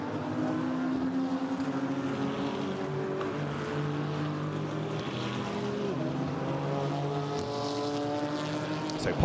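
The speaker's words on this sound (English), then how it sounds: "as the safety car does now another lap, the drivers head over the timing line" A safety car lapping the Monza race track during a GT4 European Series race, its engine a steady droning whine with shifting tones that rise and fall as it passes, continuous and fairly loud throughout.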